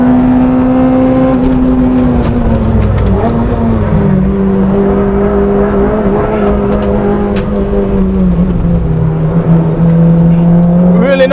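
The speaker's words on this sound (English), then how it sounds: "That's second gear, third, at 80, fourth gear. Just under 100 miles an hour in fourth." A 245 bhp Honda Integra DC5 Type R pulls hard through the gears on a race track, engine droning loud and steady as pitch climbs and drops with each shift, heard from inside the car.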